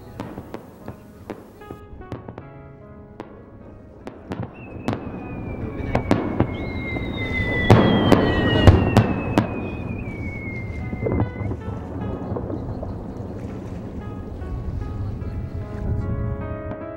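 Fireworks at the Nagasaki fireworks festival: a string of sharp booms and crackling bursts, some loud and close, over a rumbling crowd and ambient noise, with rising whistles from launched shells in the middle.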